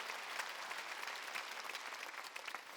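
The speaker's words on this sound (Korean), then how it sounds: "박수 치라" A church congregation claps together through a Sunday worship service, a dense and steady spread of hands that carries on without a break, moderately loud in a reverberant sanctuary.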